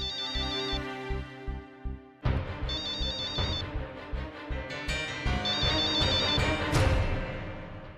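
A mobile phone ringtone plays a looping electronic melody, fairly loud and steady for several seconds, with no speech over it.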